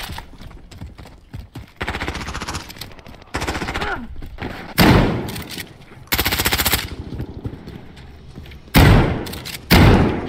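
Shotgun blasts and other gunfire ring out in the video game Call of Duty: Warzone. Loud booming shots and rapid bursts recur over ten seconds against a busy background of game noise.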